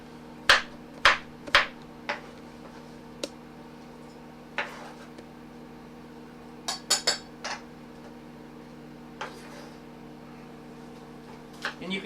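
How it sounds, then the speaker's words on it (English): A knife dices colored bell peppers on a cutting board, sharp irregular chops in quick clusters with gaps between, close and crisp over a low steady hum. "And I, again, dice them up, not too small, but not too big."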